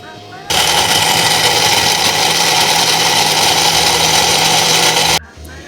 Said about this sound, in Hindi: इसमें ग्राइंडर में हमने बादाम, पिस्ता, 4 मग्ज़ और फूल मखाना हमने डाल लिया है। अब हम इसको ग्राइंड करेंगे।